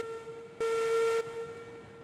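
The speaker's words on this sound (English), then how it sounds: "Oh, hey, there's a train." A steam train whistle in the railroad video game Railroads Online sounds one short, steady blast of about half a second over a constant background hum.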